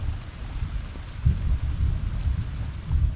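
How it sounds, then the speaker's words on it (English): Thunder rumbles low and heavy through a rainstorm, swelling in a few rolling surges over the steady hiss of falling rain, with no voices present. "I left 3 thunder rumbles in real-time video so you could see how long they lasted"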